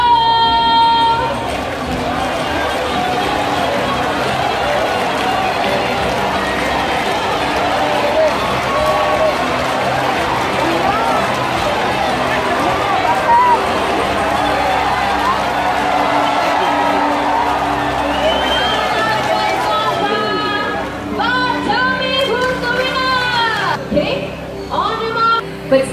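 Bird show audience cheering and whooping in a dense, loud roar of voices that holds steady for about twenty seconds, then breaks into scattered shouts and high calls near the end, with an announcer talking over it.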